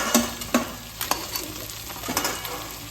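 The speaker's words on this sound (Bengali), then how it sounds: "হাই ফ্লেমে কাঁকড়াগুলো খুব সুন্দরভাবে ভাজা হয়ে গেছে।" Crabs frying in hot mustard oil over high flame, a steady bright sizzle and crackle with a few metallic stirring scrapes and clinks, close and alone.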